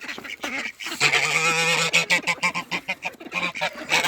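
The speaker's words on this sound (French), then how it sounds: "Là-bas c'est toujours le jar agressif." An aggressive gander on a poultry farm honks loudly and repeatedly at close range, with harsh, irregular calls and a few other fowl sounds mixed in.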